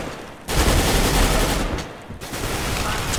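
Gunfire from a tactical shooter video game heard in a casual match: a dense burst of shots starting after a brief lull, continuing loudly with a short dip before resuming.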